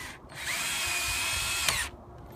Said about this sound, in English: a little bit of screwing the boards back down, at least a little bit